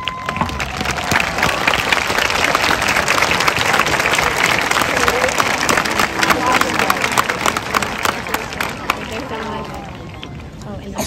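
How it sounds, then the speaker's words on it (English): A graduation ceremony audience gives sustained applause, a loud, dense wash of many hands clapping with some crowd noise mixed in, continuing steadily for about eleven seconds before easing slightly at the end. "giving them a round of applause?"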